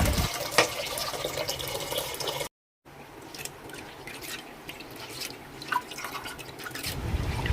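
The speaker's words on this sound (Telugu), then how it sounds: "ముందుగా 2 గ్లాసులు కందిపప్పు శుభ్రంగా 2 సార్లు కడుక్కోవాలి" Toor dal is washed in water, with wet swishing, dripping and splashing sounds close by, broken by a short silent gap partway through.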